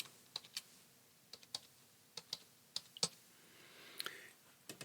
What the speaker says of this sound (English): We're going to type out welcome again.